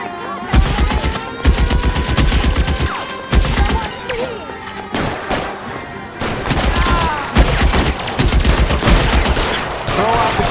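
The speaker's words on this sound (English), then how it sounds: "Open fire!" Rapid bursts of gunfire fill a shootout in the video game L.A. Noire, with machine-gun rattles and repeated loud shots. The volleys come in clusters broken by short pauses, loud and dense throughout.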